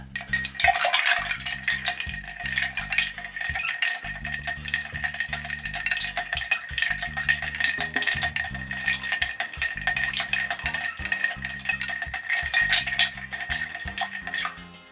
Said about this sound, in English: Now we're just going to stir.